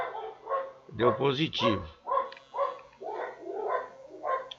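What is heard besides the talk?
dogs barking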